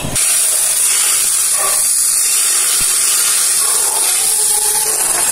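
Very hot, smoking cooking oil poured into a pan for Manado-style grilled fish with rica sauce, giving a loud, steady, broadband sizzle and hiss that fills the whole stretch with no talk.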